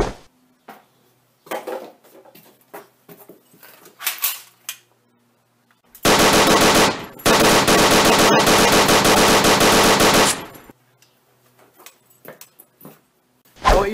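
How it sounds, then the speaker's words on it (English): A WWII-era German Sturmgewehr 44 assault rifle fires loud, sustained fully automatic bursts with a brief gap between them. Scattered mechanical clicks and handling knocks come before and after the shooting. "What you just saw me use this time was the Sturmgewehr 44"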